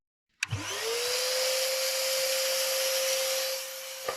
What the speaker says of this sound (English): going to be vacuuming, trying to catch all the iron filings so we get as little on the roof as possible